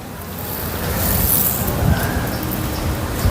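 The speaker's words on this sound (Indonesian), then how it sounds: "Di hari ini tuh anginnya agak kencang bener." Strong wind rushes steadily across an outdoor garden of orchids, a broad hissing roar buffeting the microphone with low rumbling gusts throughout.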